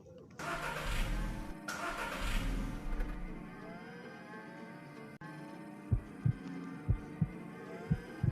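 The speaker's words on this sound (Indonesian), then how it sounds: "berusaha menyalakan mesin mobil" A car engine being cranked over, heard as a burst of grinding, whirring starter noise followed by a series of dull, evenly spaced thumps, all fairly faint.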